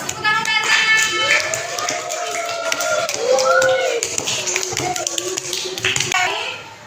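Primary-school pupils in a classroom clap for a classmate, a dense burst of many hands lasting several seconds, with children's voices chattering over it.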